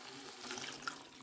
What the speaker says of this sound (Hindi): मैं 2 कप पानी डालूँगी